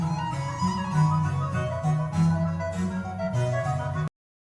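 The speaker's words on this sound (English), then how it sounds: "Bach wrote it for the recorder, not the flute" A Bach piece is played on recorder by a skilled performer over rich accompaniment, forming a full, continuous musical passage with rhythmic low-end pulses that cuts off abruptly.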